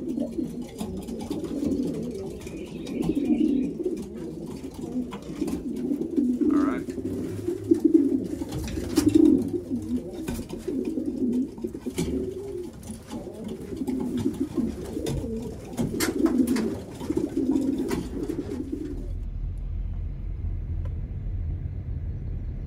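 Racing pigeons coo in a steady, low, throaty murmur that continues for most of the clip, with faint background noise and the cooing dropping away near the end.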